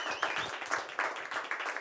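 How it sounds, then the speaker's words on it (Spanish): Concert audience applause greets a performer, a small crowd clapping steadily at moderate distance, fairly faint and uneven over a short burst. "denle un fuerte aplauso"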